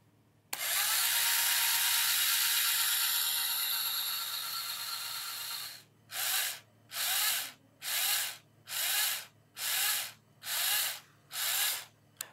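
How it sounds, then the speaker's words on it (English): An electric motor switched by a TMR magnetic proximity sensor whirs steadily for about five seconds, winds down, then starts and stops in seven even bursts, each lasting under a second, close and clear. "Once the TMR sensor is brought into this position, we should see the motor spinning"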